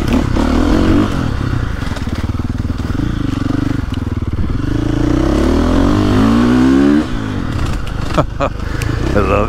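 A KTM 450SXF four-stroke dirt bike with a spark arrestor runs through a wooded trail loop, its engine droning steadily and rising in pitch as it accelerates, close and loud, with clattering and scraping from the ride.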